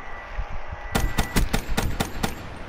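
A gun in the video game Black Ops III fires a rapid burst of about seven sharp, loud shots in quick rhythm, preceded by a few softer thuds.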